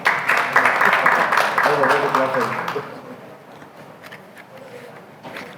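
A workshop audience claps and cheers loudly for a few seconds, then the applause fades into quieter room noise with scattered voices.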